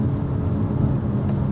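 A 2023 BMW X3 M40i engine gives a steady, rumbling drone from inside the moving vehicle, with road noise and no distinct separate blips standing out over the short stretch.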